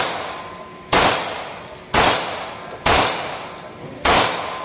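Loud gunshots ring out at a shooting range, four sharp blasts about a second apart, each one trailing off into a ringing decay, with faint clinks in between.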